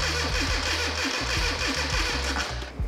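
Classic Rover Mini Cooper engine cranking over without firing, a fast rhythmic churning from the starter repeating steadily for a few seconds, close and fairly loud, then cutting off.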